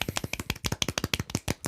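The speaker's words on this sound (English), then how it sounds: "Can we give him a golf clap?" Soft golf clap in a small podcast studio: a few people patting their hands lightly in a quick, slightly uneven run of about twenty close, crisp claps with no voices.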